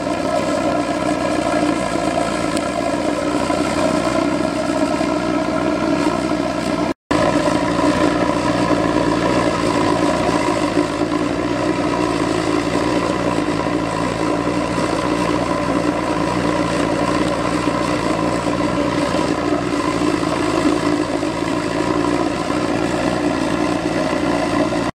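A homemade instant-light spraying oil burner built from cheap off-the-shelf fittings roars steadily in open air, a loud continuous broadband rush with a brief dropout partway through.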